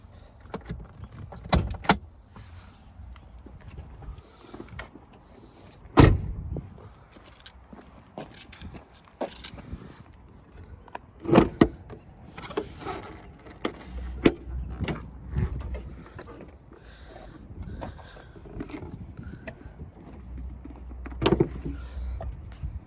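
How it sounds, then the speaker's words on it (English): The hood of a Ford Explorer is opened with a scatter of sharp mechanical clicks, latch clunks and a few heavier thumps, spaced irregularly over fairly quiet background. "You just open the hood."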